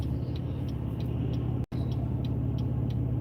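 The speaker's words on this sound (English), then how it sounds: "Man, it's crazy traffic." Heavy road traffic with cars and trucks, including a semi gravel truck, a steady rumbling hum from inside a stopped car with a faint repeating tick and a brief dropout midway.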